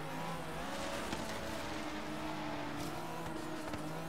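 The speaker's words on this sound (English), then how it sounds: "So I guess I'm just gonna be drifting this whole time." A car drifting in Forza Horizon 3 sends out sustained engine drone and smeared tire squeal, a continuous, fairly loud roar that rises and wavers without pause.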